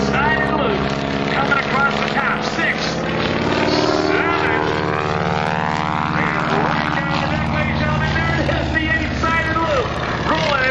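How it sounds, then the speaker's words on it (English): A propeller airplane engine roars loud and steady during a barnstorming aerobatic display, its drone rising and falling in pitch as the plane pulls up to vertical, with an announcer talking over it. "Pulls the airplane straight up to the vertical as he's showing us the giant stop sign on its side."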